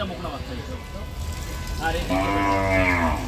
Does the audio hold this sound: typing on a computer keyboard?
no